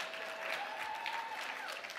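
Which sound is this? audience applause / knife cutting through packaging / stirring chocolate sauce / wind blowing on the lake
audience applause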